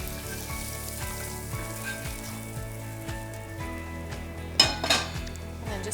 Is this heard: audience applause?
no